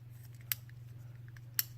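Two sharp, isolated clicks from fidget cube buttons, spaced about a second apart, close and fairly quiet over a steady low hum.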